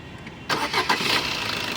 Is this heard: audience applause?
no